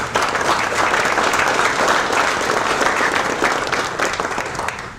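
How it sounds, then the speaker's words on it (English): Sustained audience applause at a museum library dedication evening, a dense steady wash of many hands clapping that fades slightly toward the end, with no talk over it. "please give him a round of applause"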